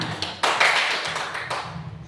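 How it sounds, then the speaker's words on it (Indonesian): A small group of participants claps briefly, a few close, loud bursts of hand claps spread over about two seconds with no voices. "Tepuk tangan dong"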